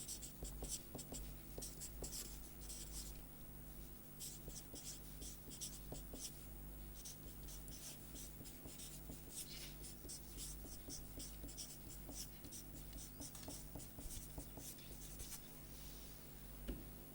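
Chalk or marker writing on a board during a mathematics lecture, a faint run of steady scratching and tapping strokes over a low hum, with no talk.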